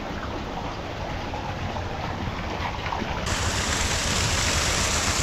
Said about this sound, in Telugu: ఫ్రెష్ వాటర్ ఇంటి ముందు నుంచి వెళ్తుంది